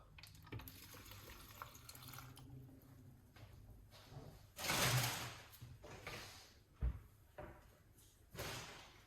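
Water runs from a kitchen tap in a couple of short bursts, close by, broken up by quiet handling sounds and a few knocks and clunks of a sink, drawer or door.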